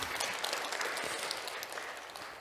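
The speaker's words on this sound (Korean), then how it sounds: "우리 박수 한번 쳐드립시다." Applause from the audience at a church parents' seminar: a steady, dense wash of clapping that holds at an even level for a couple of seconds, with no talk over it.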